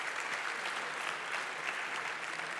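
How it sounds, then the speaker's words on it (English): Steady audience applause fills a conference hall at the opening session of the 13th European Conference on Global Health, continuous clapping from many hands throughout with no voices over it. "let's first give Heleen a big applause, because she's already on the stage."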